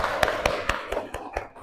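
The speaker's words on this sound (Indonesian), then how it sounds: "tepuk tangan dulu untuk Ajam" Students in a classroom clap together in a quick, evenly spaced rhythm, about seven crisp, distinct hand claps close by. The claps fade slightly toward the end.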